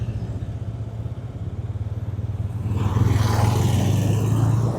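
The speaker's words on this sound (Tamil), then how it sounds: "சைலண்ட்டாக ஸ்டார்ட் ஆனாலும் எக்ஸாஸ்ட் நோட் நல்லா தான் இருக்குது." A 200cc motorcycle in urban mode rides slowly through city streets, its low, steady exhaust thrum rising and growing louder partway through, with no talk.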